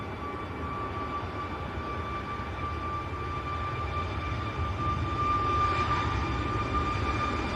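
A Ryanair airliner bound for Krakow passes at Manchester Airport, its jet engines a steady roar with a thin whine on top, growing slightly louder toward the end.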